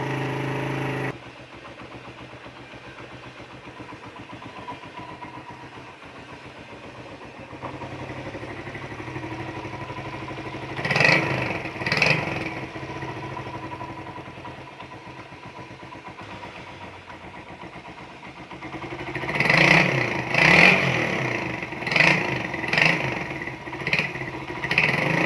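A customized Suzuki GN 125 Intruder café racer motorcycle idles with its choke pulled, running at a fast idle. Its steady single-cylinder chug is broken by several sharp revs, two near the middle and a cluster toward the end, with no talk.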